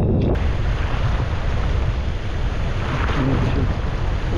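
Strong wind buffets the microphone on a boat out at sea, a loud, constant roar of rumbling gusts with waves washing beneath throughout.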